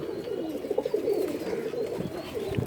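Male pigeons of good bloodlines, including a Pankhi, coo close by in soft, rolling, throaty calls that run steadily without pause.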